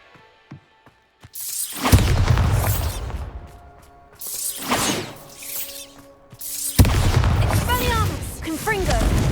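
A Bombarda spell explosion aimed at pumpkins in the video game Hogwarts Legacy, sounding as loud blasts with shattering debris, separated by quieter gaps where a voice speaks.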